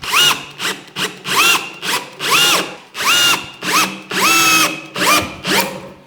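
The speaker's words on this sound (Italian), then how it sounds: "Andiamo ad avvitare." Electric screwdriver driving screws into fir wood while building a workbench, a loud close whine in repeated bursts that rise and fall in pitch as the motor loads up and stops, about eight pulses.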